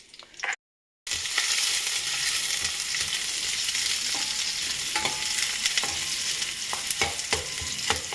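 Onion fries in about three spoons of oil in a hot pan for a curry, a loud close sizzle that swells after a brief silence and continues steadily with occasional stirring clicks.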